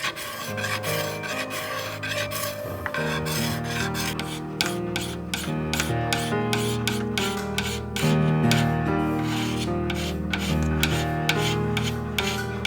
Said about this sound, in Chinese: 就铁片拿来刮，用粗砂纸打